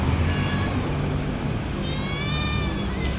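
Faint, thin meows from a cat rise over a constant loud background hiss, several short calls spaced apart.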